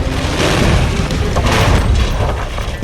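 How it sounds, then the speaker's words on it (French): A bomb explosion in a film about the assassination attempt on Hitler, heard as a loud, sustained rumbling blast with roaring debris noise filling the whole span. "Une seconde plus tard, la bombe a explosé."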